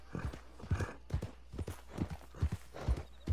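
Horse hooves clip-clopping in Red Dead Online, a steady rhythmic trot of sharp hoof strikes, clear and fairly close, with no talk over it.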